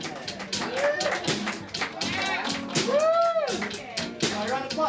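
A live audience at a late-night comedy show during a fringe festival claps and whoops in a round of applause for a contestant, the clapping loud and mixed with cheering voices and shouts throughout.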